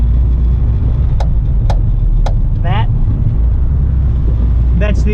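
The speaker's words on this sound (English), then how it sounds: "that's the clutch pedal hitting its impact plate on the bottom" Three sharp, evenly spaced clicks from the clutch pedal of a 1983 Honda Acty Street L striking its bottom impact plate, heard close over a loud, steady engine and road drone, with brief bursts of voice between them.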